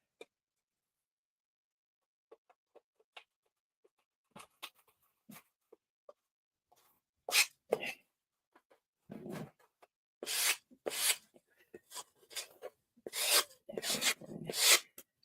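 Sandpaper rubbing along the grain of a wooden rudder: faint, sparse scrapes at first, then louder, irregular rasping strokes in quick bursts toward the end.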